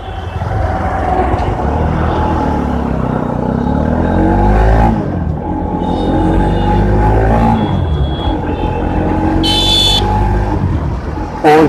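A Bajaj Pulsar NS200 motorcycle engine runs and revs up through the gears, rising and falling in pitch with each shift, loud and close, ending in a brief high whine.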